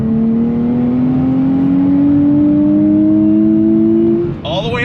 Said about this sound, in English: sounds of those twin turbos